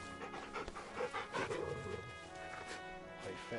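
A dog panting in Final Fantasy 16, quick breathy huffs running steadily through the clip over game music, with a voice speaking briefly.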